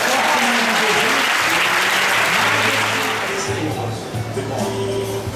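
Loud, dense audience applause fills a church healing service, with voices and shouts rising through it and the clapping easing slightly toward the end.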